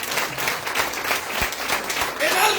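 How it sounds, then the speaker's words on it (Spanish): A church congregation claps together as an applause offering to God, producing a dense, continuous wash of applause that fills the room, with a voice speaking underneath. "Usted tiene que dar una ofrenda de palmas a Dios de pérdida de compromiso."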